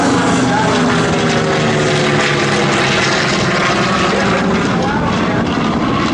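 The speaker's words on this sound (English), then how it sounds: "So look at the aircraft right there" A World War II warbird propeller aircraft roars loudly overhead at an airshow, a dense, steady engine drone with crowd and commentary noise mixed underneath.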